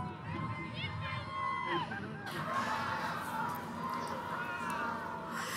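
A crowd gathered outdoors to watch a total solar eclipse shouts and cheers together in overlapping, excited voices, with talk mixed in throughout.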